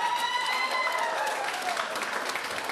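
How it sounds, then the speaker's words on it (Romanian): Wedding guests at a reception break into steady, dense applause that fills the room at an even level throughout, with a faint sustained musical tone running beneath the clapping. "Aplauze pentru alegerea Nunului Mare."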